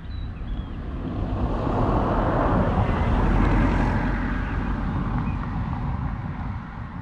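A DJI Mavic 2 Zoom drone flies and climbs outdoors in May 2019, producing a steady broadband propeller whir and wind rush that swells slightly and then holds. The sound is loud and continuous, with no talking.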